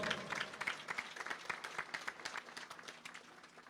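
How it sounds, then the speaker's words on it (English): A community audience at a Ganesh Utsav religious gathering claps fairly faintly, with distinct individual claps in an uneven rhythm over a soft crowd background. "come on, give him a round of applause."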